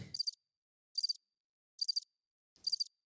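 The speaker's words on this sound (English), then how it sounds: "How many crickets are there?" A cricket sound effect gives four short, evenly spaced chirps, each a quick pulsed trill, crisp and isolated against silence.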